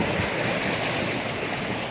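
Ocean waves washing onto an eroding beach beside a hotel, a steady, fairly loud broadband rush of surf with no distinct breaks, no talk.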